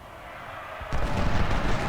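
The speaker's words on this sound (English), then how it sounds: "A very good volley." Musket volley in the Ultimate General: Civil War game at the Battle of Fredericksburg: a quiet rumbling bed, then one sudden, heavy burst of massed fire that rolls on loudly for about a second.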